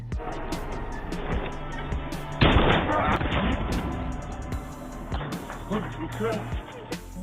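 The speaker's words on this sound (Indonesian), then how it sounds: "lalu melepaskan tembakan" A single sharp, loud gunshot cracks out partway through, its blast lingering over a busy, rumbling film soundtrack with voices in the background.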